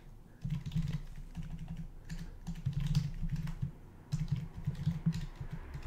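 Steady typing on a computer keyboard while Java code is entered, close and fairly soft, running in continuous bursts of keystrokes with two brief pauses.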